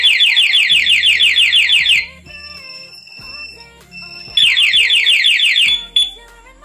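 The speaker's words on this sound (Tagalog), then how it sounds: "Mag-alarm na siya." A Z200 aftermarket motorcycle alarm blares loudly in rapid warbling bursts, cuts out to a few short electronic chirps and beeps, then resumes its piercing siren before stopping again.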